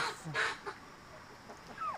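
Geese or ducks call faintly in the distance, a few short honking cries scattered over a quiet outdoor background.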